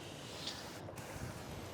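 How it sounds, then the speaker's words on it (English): Wind blows steadily outdoors during a car wash, a faint, continuous rushing and buffeting across the microphone with no voices. "it's so windy, everything is drying instantly"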